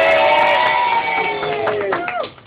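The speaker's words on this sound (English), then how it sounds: "we might get a bit of a cheer out of them" A karate squad from the Irish Karate Association cheering together during a radio interview, a short burst of voices and shouts that swells and then tails off.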